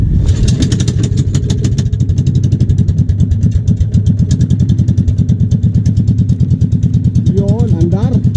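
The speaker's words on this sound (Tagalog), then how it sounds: "That's Robin engine." A small Robin engine on a fishing boat runs with a loud, rapid put-put throb that holds a steady idle rhythm. A brief whistling sound comes in near the end.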